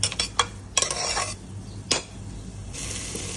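Rice grains fried with spices in a pan for a fish-head muri ghonto, stirred with a utensil that clinks and scrapes against the metal in several sharp bursts over a soft background sizzle.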